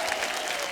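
A studio audience gives a dense, steady round of applause to welcome actress Mandakini onto a Hindi talk show, with the clapping continuing evenly throughout the short moment.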